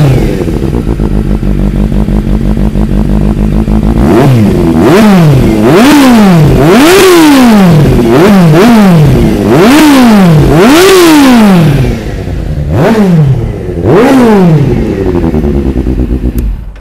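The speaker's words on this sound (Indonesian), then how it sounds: "kita dengar tengok ini original Ginelli yang adjust bunyi dia macam mana" Kawasaki Z800 inline-four motorcycle with an original Ginelli exhaust idling steadily, then blipped through a series of sharp, loud revs that rise and fall in quick succession, close up with no talking.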